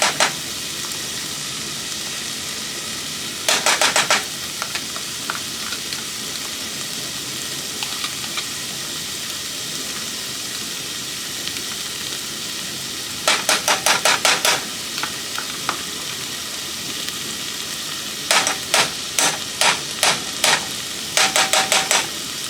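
A spoon stirs tomato paste into a simmering stew in a pot, with short clusters of rapid scraping clicks separated by quiet bubbling, growing busier toward the end.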